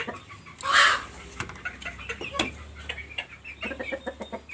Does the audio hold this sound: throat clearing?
no